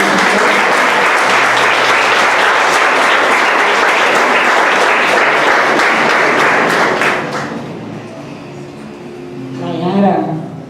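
Church congregation applauding loudly and steadily for about seven seconds, the clapping then fading out as a voice begins speaking over a quieter room.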